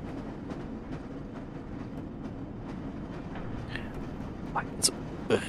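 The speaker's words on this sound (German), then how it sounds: "Dann holen wir erstmal die Eisenbahn." Train arriving in the video game Black Mesa, a low steady rumble of rail cars with soft clatter, followed near the end by a few sharp metallic squeals and clanks, moderately quiet.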